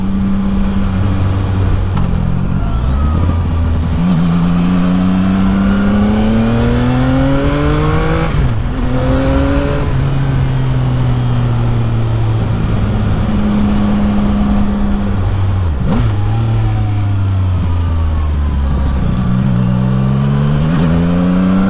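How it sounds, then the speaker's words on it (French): A loud CF Moto 675 NK motorcycle exhaust revs up and down repeatedly, the engine pitch climbing and falling in several throttle blips, heard up close with no talking. "vu le son que la ligne fait, je pense qu'il n'y aura pas l'utilité de changer de ligne d'échappement"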